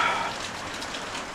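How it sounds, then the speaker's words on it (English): Heavy rain pours steadily during a roof cleaning job, a dense continuous hiss close by with no speech over it. "getting the job done today in the soaking rain"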